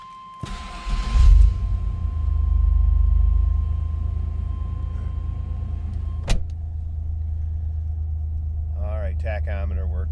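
A 1991 GMC Syclone cranks briefly on a cold start and then settles into a low, steady idle rumble, close by, with a short tone and a click along the way and a voice speaking near the end.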